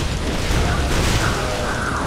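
A cannon fires in the action RPG Torchlight 2, giving a dense, sustained booming rumble that stays loud and steady throughout, with no distinct separate shots.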